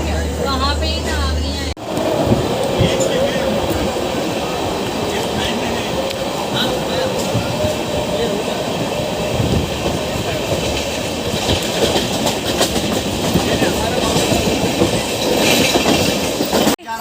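Moving passenger train from Mumbai Central, a loud steady rumble with rhythmic clickety-clack of wheels over rail joints heard from inside the carriage, with indistinct voices faintly beneath.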